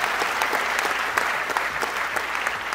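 Steady applause from an audience at a Marathi event honouring actor Bharat Jadhav, a dense even wash of clapping holding for the whole stretch with no voices over it.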